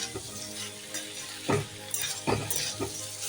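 Egg and paneer sauté in a pan with a close, steady sizzle, while a spatula stirs and scrapes in several distinct strokes. No voices are heard.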